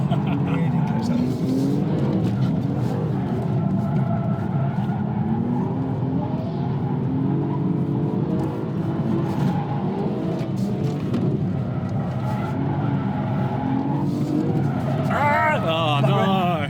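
Drag racing cars at the Santa Pod drag strip, a loud continuous engine roar and tire noise that holds for the whole stretch, with excited people talking over it.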